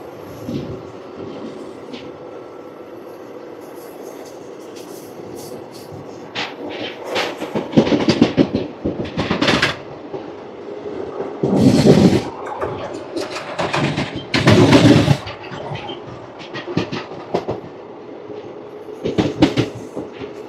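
Circar Express running through Kovvur railway station without stopping: a low carriage rumble swells into bursts of loud wheel clatter over points and joints, fading in between, with a bird faintly heard.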